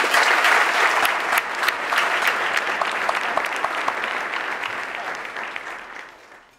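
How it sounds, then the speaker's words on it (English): A luncheon audience applauds for table sponsors, a dense, steady burst of many hands clapping that fades out toward the end. "so let's give them a round of applause"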